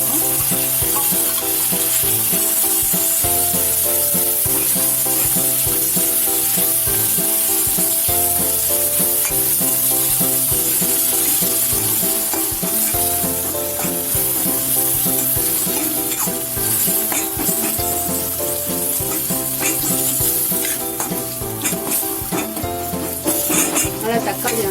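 Tomatoes frying in a pan for a cauliflower and pea masala, with a loud steady sizzle and repeated scraping stirs throughout, heard under continuous background music.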